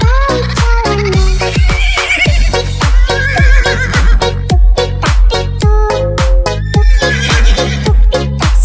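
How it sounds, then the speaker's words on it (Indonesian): A horse pulling a delman carriage in an Indonesian children's song, its hooves clip-clopping in a brisk, loud, regular beat with neighs and whinnies mixed over the music. "Tuk-tik-tak suara sepatu kuda."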